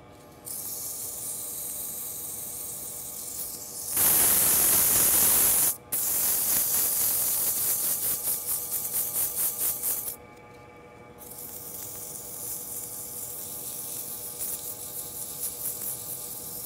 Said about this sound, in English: I like to go ahead and sand the entire piece before I create the label